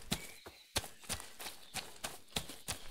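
Footsteps recorded in various types of shoes for sound design, a regular series of sharp, distinct steps about every half second, close and clear with no talking.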